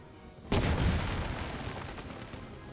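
Machine gunners fire in the turn-based WWII game Headquarters: World War II, starting with a sudden loud burst and continuing as rattling gunfire that slowly fades.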